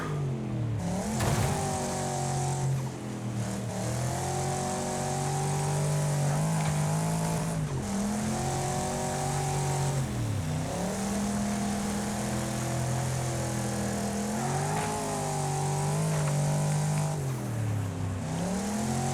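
Race cars in the Wreckfest video game roar continuously, the engine pitch climbing through the gears and dropping sharply at each shift in a repeating pattern, loud and close.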